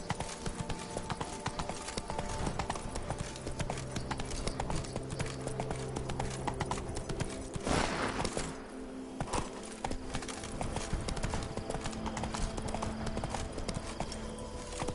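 Rhythmic clip-clop of the horse Roach's hooves galloping steadily in The Witcher 3: Wild Hunt, continuous and fairly close, with faint game ambience and a brief whooshing burst midway.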